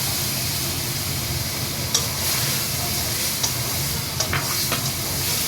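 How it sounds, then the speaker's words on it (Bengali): Spice paste with ground coriander sautés in a pan for a magur fish curry, giving a steady, close sizzle and hiss with a few faint scrapes of stirring and no voices. "এবার একটুখানি কষিয়ে নিই।"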